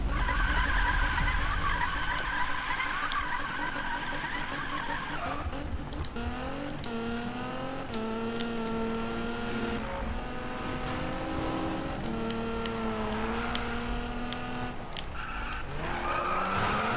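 A fully upgraded, drift-tuned 2017 Nissan GT-R in Need for Speed slides with loud, sustained tire squeal and a revving engine rising and falling continuously, close and prominent throughout.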